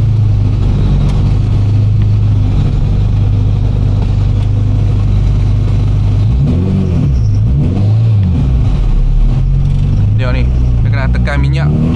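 Honda Integra DC2 engine revving, a steady mid-low drone that rises and falls in pitch through several throttle blips near the end, with speech heard over it.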